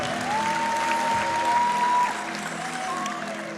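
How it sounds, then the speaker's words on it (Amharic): A church congregation claps in praise during an Amharic sermon, a steady wash of applause continuing for several seconds under a sustained organ or keyboard tone. "አጨብጭቡ እስቲ ለጌታ ክብር።"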